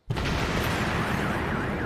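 A loud explosion from a film bursts suddenly and then rolls on as a sustained, dense roar of blast and debris, close and filling the scene.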